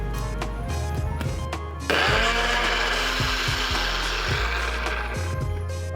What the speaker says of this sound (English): So I'm just going to give it an attempt in the NutriBullet.